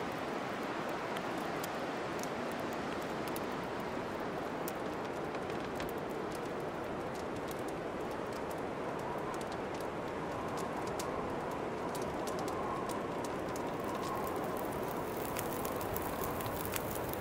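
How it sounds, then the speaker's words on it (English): Fire starting in the video game The Long Dark, a steady crackling hiss of flames with scattered sharp pops and snaps, constant and even throughout. "so that's the sound of the fire starting"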